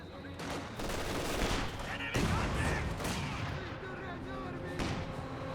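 Sustained rifle and machine-gun fire rakes German grenadiers in the strategy game Company of Heroes 2, a dense rattling fusillade with repeated sharp bursts, steady and fairly close throughout, while a commentator talks over it.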